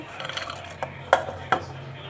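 Peanuts tipped into a pan while making North Karnataka-style flaxseed chutney powder: two short, sharp clattering hits close by over a low steady background hum.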